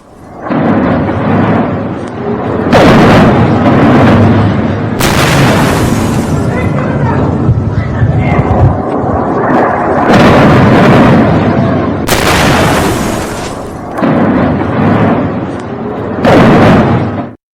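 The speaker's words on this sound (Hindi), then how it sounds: "ईरान में रात के अंधेरे में मिसाइल हमला हुआ।" Nighttime missile strikes in Iran bring a string of heavy booms and rumbling blasts, loud and close, layered with crackling bursts and what sounds like a voice talking over the noise.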